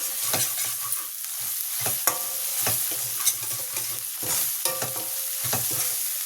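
Ginger-garlic paste stirred and fried with onions in a pan for a fish curry, with rhythmic spatula scrapes over a steady close sizzle and no talking.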